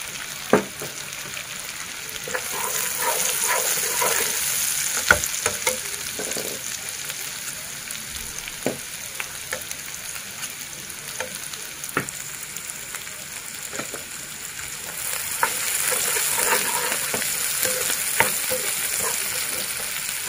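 A small vertically sliced onion sizzles in a pan for egg fried rice, a steady frying hiss broken by scattered clicks and scrapes of a spatula stirring, swelling louder at the start and again near the end.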